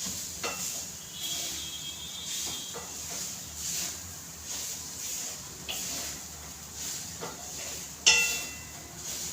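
Grated fresh coconut roasts in ghee in a pan, giving a low, steady sizzle with faint stirring scrapes, plus a brief louder clatter near the end.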